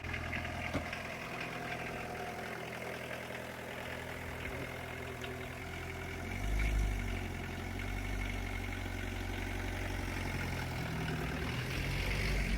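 An old Peugeot 106 engine idles with a steady low rumble and rattly knocking, a slight surge of revs partway through, and no talking.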